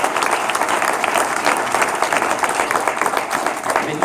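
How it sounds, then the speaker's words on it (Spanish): Church congregation applauding during a Spanish-language service, dense continuous clapping from many hands, loud and close, with no one speaking over it. "Denle un aplauso a nuestro Dios."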